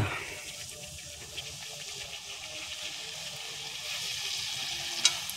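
Gupchup puris frying in hot oil, a steady close bubbling hiss that holds evenly throughout, with a faint clack near the end and no talk over it.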